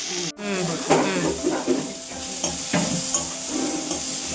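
Tomatoes cooking in a hot pan, a loud steady sizzle with repeated scraping stir strokes, close by; faint voice in the background.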